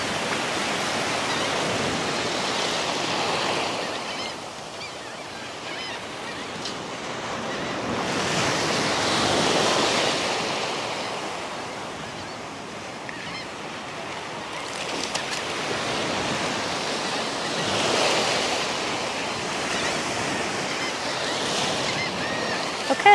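Ocean surf rolling onto the beach at Gulf Shores, Alabama, with waves breaking in steady swells about every eight seconds, loud and broadband under wind noise on the microphone, with no voices.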